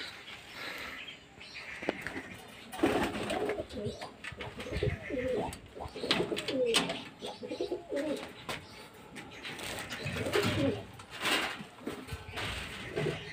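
Pigeons coo in repeated throaty rolls around a house rooftop as the flock flies overhead. Soft rustling and thumps blend in at moderate loudness.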